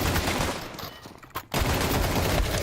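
Rapid pistol gunfire in a Counter-Strike match during an ESEA Open playoff game, sounding as a dense run of loud shots with a short lull near the middle before the firing resumes.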